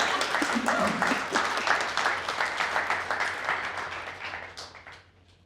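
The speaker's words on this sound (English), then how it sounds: "This is when you clap." After a memoir reading, an audience breaks into clapping, with distinct individual claps in a lively rhythm that peak early and then taper off into near silence over about five seconds.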